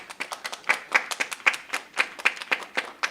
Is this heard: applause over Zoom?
yes